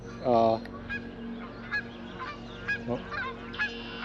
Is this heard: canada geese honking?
yes